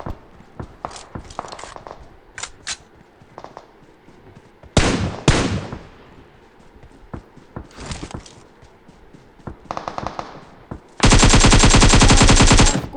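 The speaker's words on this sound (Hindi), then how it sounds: "आगे से 2 बॉट फायर कर रहे थे" Gunfire from bots in a first-person shooter video game crackles in scattered bursts of single shots, then ends in a loud, sustained automatic volley. The shots are close and sharp, with no talk over them.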